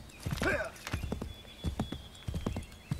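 A horse in the video game Assassin's Creed 3 lets out a sharp whinny, then its hooves clop in quick uneven beats, loud and close, as someone talks over the game sounds.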